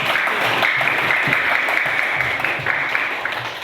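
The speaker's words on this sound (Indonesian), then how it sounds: "tepuk tangan untuk" Applause from a classroom audience at a school teaching session, a steady dense wash of clapping that carries through the whole stretch and tapers slightly toward the end.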